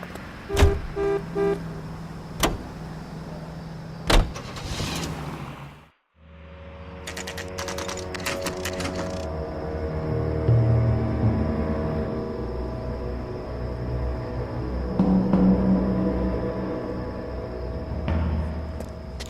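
A car driven in the video game LA Noire: a few quick horn toots and clicks up front, a short silent gap, then a steady engine drone that swells and eases as the drive continues.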